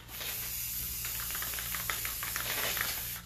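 Steady airy hiss of spray paint from a can during a live faux marble, blue wood-grain finishing session, continuous and fairly close with a low hum underneath.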